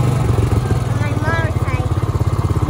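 A motorcycle engine idles and putters with a steady low rhythmic throb, with a person talking over it.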